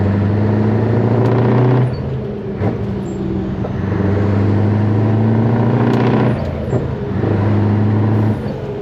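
Scania 143 500 V8 truck engine heard from the cab, a steady loud rumble that swells and eases through the gear changes while driving.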